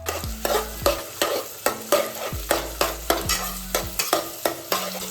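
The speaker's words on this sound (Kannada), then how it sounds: "ಇದು ಫುಲ್ ಬ್ರೌನ್ ಆಗೋವರೆಗೂ ನಾವು ಫ್ರೈ ಮಾಡಬೇಕು." Sliced onions being fried for chicken dum biryani, cooked until fully brown, with a steady sizzle broken by repeated scrapes and knocks of a stirring spoon roughly every half second, close and fairly loud, with no one talking.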